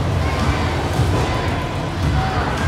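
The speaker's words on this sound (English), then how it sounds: "Crowd's chained out. They're excited." Dense, steady roar of an excited crowd at a live wrestling rumble match, a continuous wash of cheering and babble that stays loud and even without letting up.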